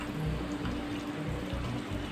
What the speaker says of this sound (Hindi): और थोड़ा सा पानी ऐड करेंगे